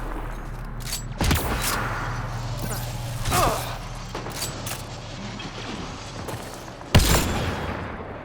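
Sniper rifle shots in the sci-fi video game Mass Effect Andromeda ring out as three sharp, loud reports spaced a couple of seconds apart, over a steady low game ambience.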